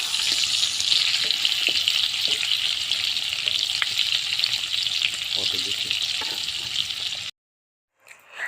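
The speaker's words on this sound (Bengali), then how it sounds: "এখন চিকেনের আলুটা ফ্রাই করা হচ্ছে।" Potatoes for a chicken curry fry in a pan with a loud, steady sizzle and crackle that carries on for about seven seconds, then cuts off abruptly into near silence.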